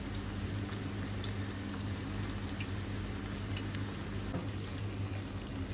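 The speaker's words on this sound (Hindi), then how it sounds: "ये पकौड़े हमें मीडियम फ्लेम पे पकाने हैं" Pakoras frying in hot oil over a medium flame give a steady, even sizzle and crackle that runs unbroken throughout, with no voices.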